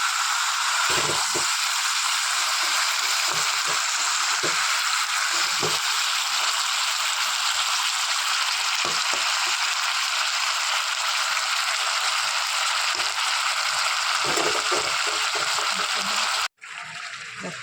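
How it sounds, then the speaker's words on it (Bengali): Chicken pieces fry in a pan for chicken kosha, a loud, steady sizzling hiss with occasional pops and stirring clatter, cut off abruptly near the end. "মাংসটা এখানে একটু ভাজা হচ্ছে"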